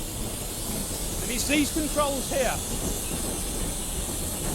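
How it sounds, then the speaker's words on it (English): Injector on a British Standard class steam locomotive under the cab footplate, a continuous hiss of steam with a faint high-pitched singing whine, while someone talks nearby. "You might be able to hear it now. You can hear a singing noise,"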